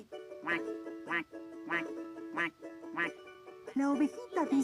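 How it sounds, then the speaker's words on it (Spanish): A duck quacks in a quick repeated series of nasal calls, close and fairly loud, growing busier toward the end. "El patito dice."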